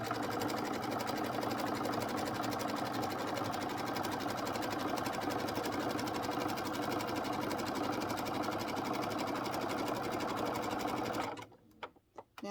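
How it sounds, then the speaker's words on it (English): A sewing machine stitching elastic onto a fabric egg-gathering apron runs in a steady, fast, close whirring hum for about eleven seconds, then stops abruptly, leaving a few faint clicks. "I'm going to start sewing."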